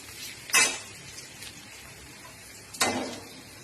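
Whole spices like cardamom, cinnamon and cloves are stirred in a pan, with two distinct scraping clatters of a spoon over a quiet low frying hiss.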